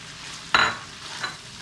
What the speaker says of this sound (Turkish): Şimdi soğanları ilave ediyorum.